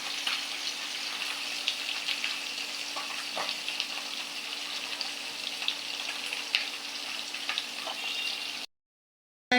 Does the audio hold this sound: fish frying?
yes